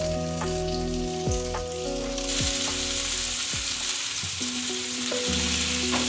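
Hard frozen food fries in a pan, giving a loud, dense, steady sizzle throughout, with sustained tonal hums and a few gliding tones in the background.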